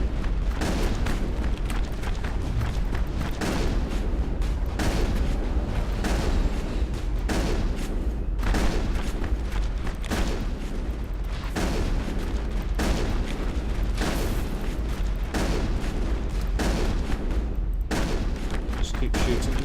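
Continuous heavy gunfire and explosive booms fill a Mass Effect battle against swarming rachni, dense and loud throughout, with rapid bursts and a voice talking underneath.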